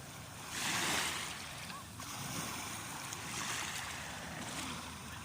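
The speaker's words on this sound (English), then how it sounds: "The sea" At the water's edge at sunset, faint fresh sea surf washes in two broad swells, mixed with soft wind noise.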